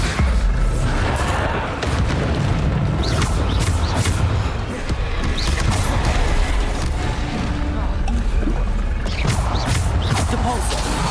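Bombardo explosion spell blasts in the video game Hogwarts Legacy, a loud dense barrage of booms and crashes filling the scene continuously, with speech-like voices mixed into the chaotic battle noise.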